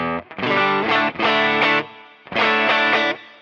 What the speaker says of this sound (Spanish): Pero pues sí o sí tengo que tener una reverb suave.